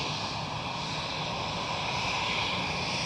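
ITA Airbus A320ceo airliner at Schiphol airport in Amsterdam, a steady broadband roar of jet engines heard from a distance, loud and even across the whole moment with no voices.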